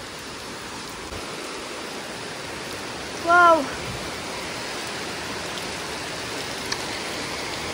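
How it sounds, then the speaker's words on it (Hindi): Heavy rain pours down steadily as a dense, even wash of noise throughout, with a brief excited exclamation from a speaker near the middle. "माय गॉड गाइस, इतना जोर से बारिश गिर रहा है, मजा ही आ गया रे बाबा।"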